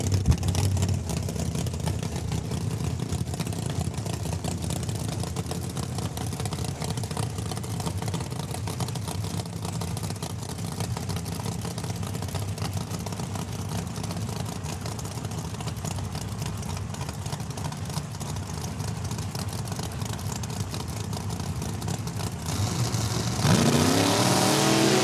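Drag racing cars at a Saskatchewan raceway with steady engine roar, fairly distant and continuous, then a louder rising rev close to the end.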